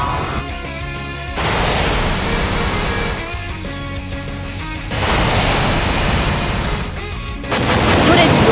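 Missile salvos and main cannon fire from Super Robot Wars Z2, enemy side of Mobile Suit Gundam 00 2nd Season, arrive as loud, sustained roaring blasts in three surging waves, each swelling heavier than the last over a layered game soundtrack.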